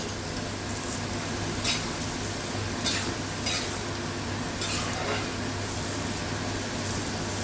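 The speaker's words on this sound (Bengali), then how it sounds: "এবার আমি লাউ যে কেটে রেখেছি লাউটা দিয়ে দেব" Cut bottle gourd pieces go into half-boiled masoor lentil dal in a pot: a steady bubbling hiss with a low hum, broken by a few soft splashes and scrapes as the gourd is stirred in.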